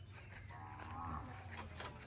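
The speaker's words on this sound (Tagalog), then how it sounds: "And these are my goats." Goats in a backyard pen call out, a single faint drawn-out bleat over a quiet steady background hum.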